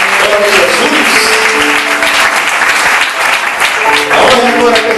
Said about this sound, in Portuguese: Jesus, essas palmas são para ti, Senhor